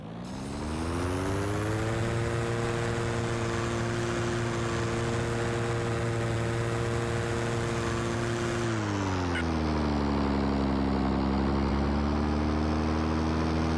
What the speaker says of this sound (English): the engine noise they chose feels a little underpowered for these things